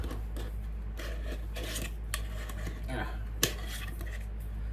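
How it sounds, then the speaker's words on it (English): Quiet scraping and clinking of a utensil stirring coffee flake seasoning into food on a hot plate, with a few sharper taps against the dish over a low steady hum. "we're going to stir that in, get all that goodness together"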